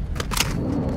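Quick mechanical clicks and clacks of a magazine being swapped on a weapon in a military shooter video game, a short, fairly close burst over steady background game noise.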